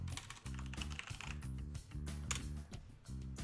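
Fingers typing on a computer keyboard, a close run of quick, uneven key clicks with short pauses, alone with no voices.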